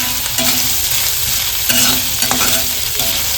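Chopped tomato and onion with bay leaf sautéed in a pan for kadai paneer, a loud close sizzle of frying with spatula scrapes and stirring knocks throughout, no voices.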